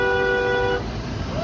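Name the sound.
car horn honking in traffic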